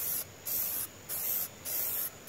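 Three bursts of aerosol spray from a can, coating homemade body-armor plate material, each hiss lasting about half a second with short gaps between, close and steady, with no voices.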